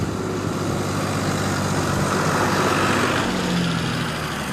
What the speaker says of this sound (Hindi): पीछे एक ट्रैक्टर आ रहा है